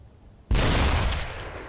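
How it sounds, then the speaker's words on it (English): A single loud shotgun blast in the video game Deadfall Adventures, bursting abruptly out of quiet and trailing off in a long rumbling decay. "Is this a shotgun?"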